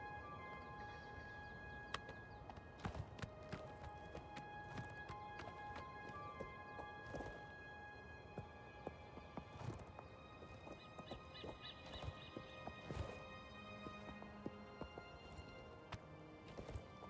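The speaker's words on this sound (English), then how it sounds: "Look at my horse. My horse is amazing." Game horse hooves clip-clop in a steady rhythm over a busy, layered background of ambient effects and chimes, moderately loud and continuous with scattered sharp clicks.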